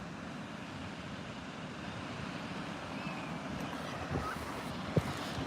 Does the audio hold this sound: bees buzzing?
no